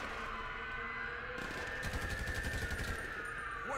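A burst of rapid automatic gunfire aimed at a car's driver in GTA V, heard as a quick, evenly spaced string of shots over a steady engine drone and heavy game background noise, with no talking.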